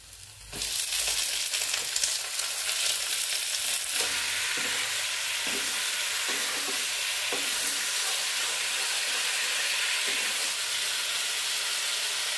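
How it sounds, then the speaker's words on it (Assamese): Pieces of mature bottle gourd and potato frying in oil, a loud continuous sizzle with hissing steam and repeated stirring scrapes throughout, no talking. "এতিয়া পানীলাও আৰু আলুখিনি দি দিম।"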